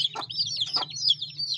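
A hen clucks softly in low, throaty pulses while her newly hatched chicks peep in a continuous high chatter nearby, all at a fairly quiet level.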